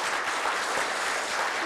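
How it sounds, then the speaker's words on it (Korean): A ceremony crowd at a Korea University graduate school event claps loudly, a dense, steady wash of applause with no talk over it. "박수 한번 크게 치시죠"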